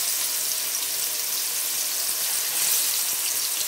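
Small fish pieces fry in hot oil in a kadai, giving a steady, loud, close sizzle and crackle that fills the whole stretch with no talking.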